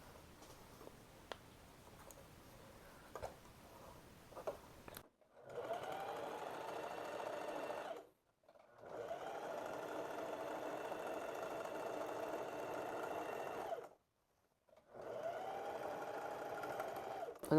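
A sewing machine stitches elastic onto the waistband of a pair of shorts, running loud and close in three long bursts separated by brief pauses, after a stretch of quiet handling noise.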